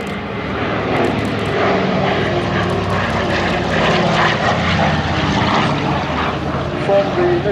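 Douglas Dakota III KP220, a propeller transport plane, flies at the Headcorn Battle of Britain Airshow 2022, its loud, steady engine drone filling the air while a commentator talks over it.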